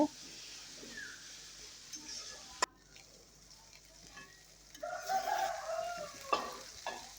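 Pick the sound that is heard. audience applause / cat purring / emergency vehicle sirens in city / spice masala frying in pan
spice masala frying in pan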